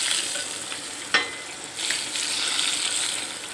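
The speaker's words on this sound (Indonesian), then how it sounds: "kita siram sambal dabu-dabunya dengan minyak goreng yang sudah kita bikin tadi" Hot oil sizzles steadily as it is poured over a sambal dabu-dabu chili relish, with a brief clink partway through and no voices.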